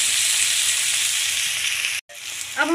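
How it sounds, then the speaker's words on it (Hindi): Tomatoes hit hot oil with curry leaves in a pan for a curry, a loud, steady close-up sizzle that drops out briefly near the end before a fresh crackle starts up. "अब हम इसमें टमाटर डालेंगे। टमाटर को भी हम थोड़ा पकने देंगे।"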